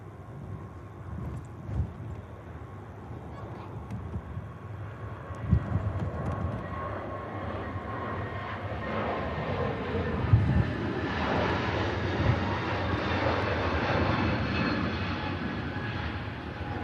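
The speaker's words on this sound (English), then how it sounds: "Turkish Airlines A321neo on the move." A Turkish Airlines Airbus A321neo takes off at Manchester Airport, a distant engine roar building steadily over the clip into a broad, rising rumble, with no talk.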